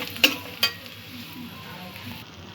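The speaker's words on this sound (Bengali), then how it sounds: "মশলাটা একটু ভেজে নেব।" Spice masala frying in a pan for a Bengali vegetarian chhana bora dalna: a soft, steady sizzle with two sharp clinks of a utensil against the pan early on, then quiet frying.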